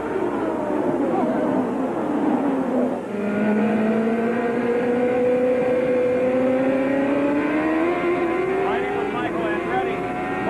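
1995 CART IndyCar race cars roar past at the green-flag start of the Marlboro Grand Prix of Miami, a loud sustained engine drone with rising pitch sweeps as the pack accelerates, under continuous commentator talk.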